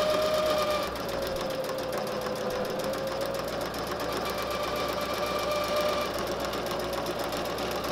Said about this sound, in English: Going to stitch down the seam.